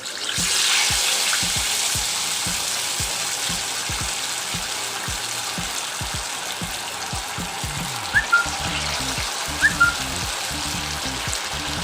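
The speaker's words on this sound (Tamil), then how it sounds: "இப்போது இதை நம்ம ஃப்ரை பண்ணிடலாம்." Marinated chicken leg pieces fry in hot oil, a steady loud sizzle running the whole way with crackling pops and a few brief bubbling bursts toward the end. No one speaks.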